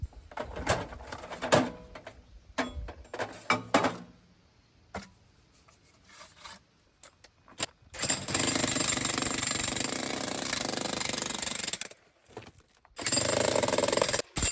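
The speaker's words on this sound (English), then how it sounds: "this jackhammer makes light work of breaking up this rock" A jackhammer pounds rock in rapid, loud bursts, starting and stopping several times with brief quiet gaps between the longer hammering runs.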